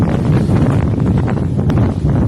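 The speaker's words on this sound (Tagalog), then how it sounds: "Ang lakas ng hangin" Strong mountain wind on Negros Island roars steadily into the microphone, a loud, continuous buffeting rush with low rumbling gusts throughout.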